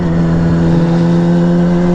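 A Honda Grom motorcycle engine revs steadily under throttle with a loud, continuous droning hum and strong low harmonics, close up, resting on its kickstand at a stunt spot, with no talking.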